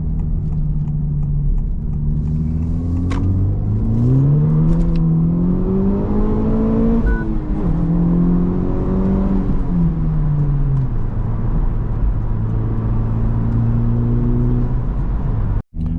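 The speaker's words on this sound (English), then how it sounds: "Time for another highway pull, even though there's quite a bit of traffic right now." Honda Civic Type R FL5 accelerating hard on a highway in traffic, a loud close engine drone whose pitch climbs through a gear, dips at a shift and settles into a steady cruise, with a clunk at the end.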